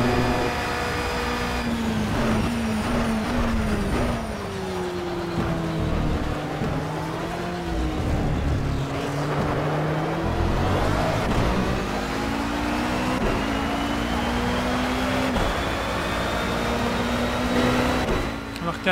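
Race cars lapping Spa-Francorchamps in Project CARS, a WEC-style endurance race with LMP1 prototypes, their engines whining loud and continuous with shifting pitch through gear changes, tires squealing at moments.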